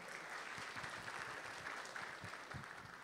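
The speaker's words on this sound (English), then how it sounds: "Can we get energy add to the room with a big round of applause" Applause fills a large hall at the opening ceremony of the Jakarta Investment Festival Summit 2025, a steady wash of many hands clapping, sounding slightly distant and even throughout.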